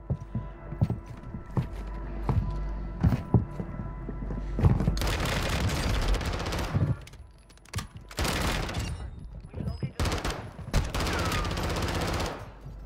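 MP7 submachine gun fire in a video game gunfight on Vondel Park, with fast bursts of loud, crackling automatic shots in several clusters, separated by single sharp pops and brief lulls.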